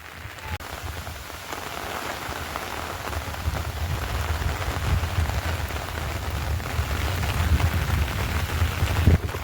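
Steady rain falling outdoors near a river, a dense continuous patter on surfaces that swells slightly over time, with no voices.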